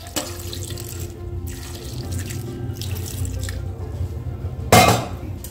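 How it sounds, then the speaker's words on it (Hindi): Water pours steadily into a pan holding onion, tomato, garlic, ginger and cashews, a continuous close splashing stream ending with a brief louder clatter near the end. "और इसमें डालूंगी मैं थोड़ा सा पानी।"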